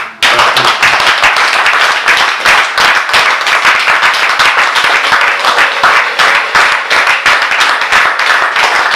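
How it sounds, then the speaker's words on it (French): A church congregation at a consecration service applauding loudly, many hands clapping close by in a fast, rhythmic, sustained burst that keeps an even pulse from start to finish. "Ceux qui savent qu'il est puissant, qu'ils l'applaudissent."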